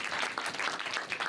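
Continuous audience applause at a cultural event in Punjab Bhawan, Lahore, a dense crackle of many hands clapping together, steady and moderately loud throughout with a few sharper claps standing out.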